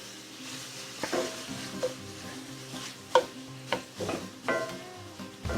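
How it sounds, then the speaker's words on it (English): Bacon and rabbit meat for a stew sizzle in a pan while being stirred, a continuous moderate frying hiss broken by several spoon knocks and scrapes against the pan, close up with no voices. "make sure that that bacon is all mixed up with that rabbit meat"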